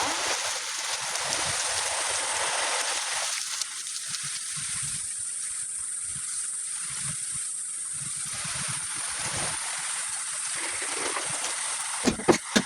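Steady rain pours down outdoors at a home where laundry hangs, a dense continuous hiss throughout, ending with a few louder knocks.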